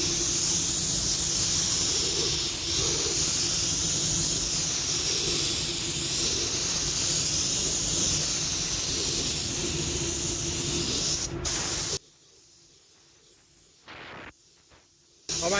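A spray gun lays a red paint coat onto a car fender, giving a loud, steady airy hiss that runs continuously for about twelve seconds before cutting off, followed by quieter short bursts.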